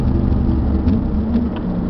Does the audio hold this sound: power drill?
no